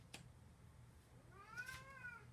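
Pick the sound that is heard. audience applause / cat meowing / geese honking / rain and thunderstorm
cat meowing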